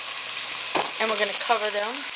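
Crabs fry in a pan for a red crab sauce, giving a steady close sizzle and hiss that runs the whole time while a person talks over it.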